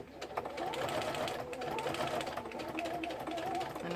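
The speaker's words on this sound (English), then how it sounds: "I'm just going to go a couple stitches over my previous line of sewing and reverse." Domestic sewing machine running steadily as it stitches back over a previous seam line and then reverses, a continuous close whirring motor hum with a fast needle clatter, played alone without any talk.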